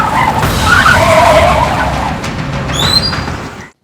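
A car overtakes a motorbike on a road and skids, giving a loud, sustained tyre screech over a roaring engine for several seconds before cutting off abruptly.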